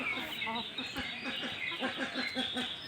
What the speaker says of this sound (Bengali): এই যে এটা টাইগার মুরগি